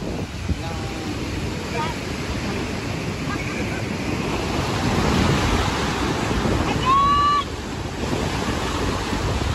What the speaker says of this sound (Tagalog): Walang magtakang maligo sa sobrang lakas po ng alon.